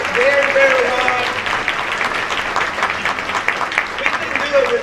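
Applause from an audience at a mayor's ball in Phenix City, a steady dense clatter of many hands lasting throughout, with a whoop or cheering voice rising above it near the start and end.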